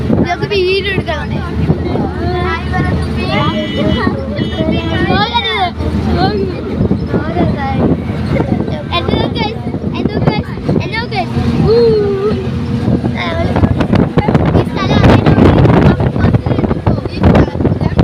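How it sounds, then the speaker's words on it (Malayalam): Strong wind buffets the microphone outdoors in Palakkad as a steady, rough rumble throughout, with voices and background chatter mixed in. "നല്ല കാറ്റ് ഇതൊക്കെ വീഡിയോ എടുക്കണം"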